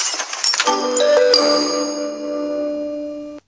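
A school bell rings as class lets out, in a bright metallic clatter that settles into a long ringing tone, loud and close, then stops abruptly.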